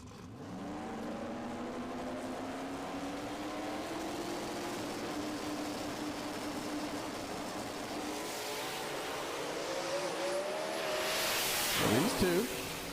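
Turbocharged drag racing cars launch off the starting line at Maryland International Raceway, a sustained rising engine roar building over several seconds, then a loud swelling surge with a sharp pitch sweep near the end, heard from a distance.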